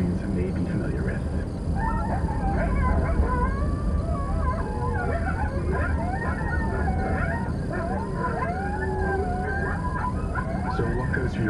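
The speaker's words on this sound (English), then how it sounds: "this is a great example of why coyotes are nicknamed the song dog. You know, they really do have a wide variety of vocalizations" A group of coyotes howls and yips in a dense chorus of rising and wavering wails, loud and continuous with overlapping voices throughout.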